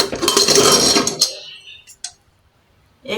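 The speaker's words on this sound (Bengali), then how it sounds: "এখন আমি প্রেসারের ঢাকনাটা খুলে দিব" The lid of a pressure cooker holding boiled potatoes is opened, starting with a loud burst of hissing steam, then a few light metal clinks and clatters against near silence.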